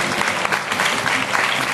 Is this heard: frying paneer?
no